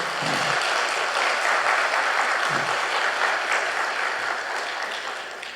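A church congregation gives a professor a big, sustained round of applause after a lecture, a broad, loud roar of clapping that fades slightly toward the end.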